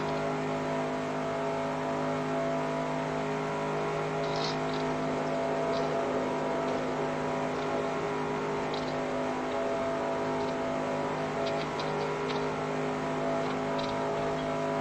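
Race car engines on the first lap at Daytona in NR2003: a steady, loud sustained engine drone with a constant pitch throughout, with faint brief higher squeaks here and there.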